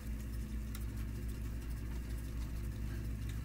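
A lawn mower drones steadily in the background, a continuous low engine hum at even volume with no other sounds over it.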